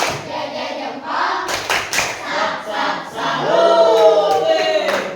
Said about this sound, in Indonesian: tepuk tangan. Tepuk salut.